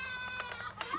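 A cat meows and caterwauls in a few loud, brief, wavering cries close to the microphone, with no voices heard.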